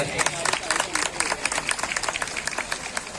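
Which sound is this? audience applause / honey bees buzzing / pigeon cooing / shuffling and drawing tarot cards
audience applause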